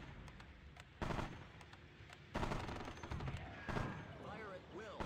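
Gunfire and artillery fire in a real-time strategy video game, bursts of shots and booming blasts mixed with unit voice callouts, moderately loud with sharp onsets every second or so.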